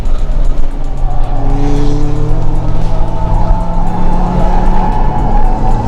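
A Scion tC being driven hard on a race track, its engine note rising and falling through the gears at close range, with a continuous loud roar and tire noise.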